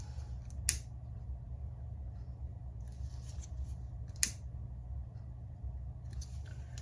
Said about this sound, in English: Okay, let me go cut a piece of zipper.